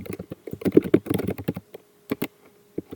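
Quick bursts of keystrokes on a computer keyboard as an R command is typed, a close flurry of clicks followed by a pause and a few isolated taps, no voice.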